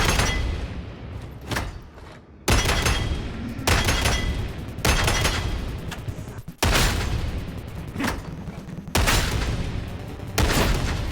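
The Ogryn Ripper gun in Warhammer 40,000: Darktide fires repeated loud, close bursts, each a sharp cluster of heavy shots followed by a brief gap, about six bursts in steady rhythm with no talking.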